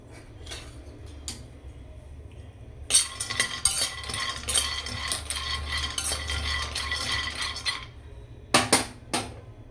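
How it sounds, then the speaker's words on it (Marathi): Almonds are dry-roasted in a hot kadhai and stirred with a metal spoon, giving a busy run of scraping, rattling and clinking in the middle, with sparse taps before it and a brief clatter at the end. "कढई जी आहे ती छान गरम ही झालेली आहे. छान गरम झाली आहे तर त्यामध्ये मी आता बदाम जे घेतले ते बदाम इथे 5-1 मिनिटासाठी भाजून घेणार आहे"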